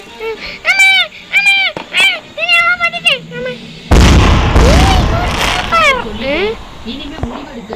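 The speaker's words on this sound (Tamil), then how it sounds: "ஐயோ சரி இன்னொரு பட்டாசு வெடிக்கும்." A firecracker goes off with a loud, sudden bang and a crackling, decaying burst, preceded by a series of short, cat-like meowing cries.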